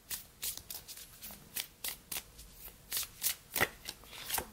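A deck of oracle cards being shuffled by hand, a quiet close series of about a dozen crisp riffling bursts in uneven rhythm.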